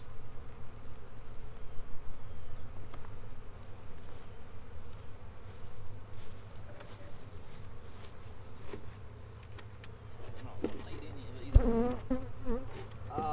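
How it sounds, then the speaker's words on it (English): Honey bees buzz steadily in a swarm trap, a dense, continuous drone close by that runs throughout, with a sharp knock near the end. "I'm just gonna shake them bees off."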